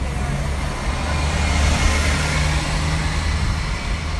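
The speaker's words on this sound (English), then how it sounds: "a TTC bus or a car rumbles by" City bus and cars on a busy street in Toronto's west end downtown, a steady low rumble of passing traffic held at an even, fairly loud level throughout, with no voices.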